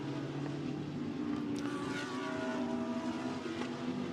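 An Aston Martin GT race car at Spa during the 24-hour endurance race, a steady distant engine drone holding level throughout with no clear rise or fade of a pass.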